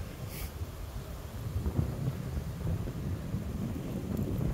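Strong wind buffets a microphone outdoors while cycling through windy countryside, a continuous low rumbling roar with gusty swells, loud and close, no talk.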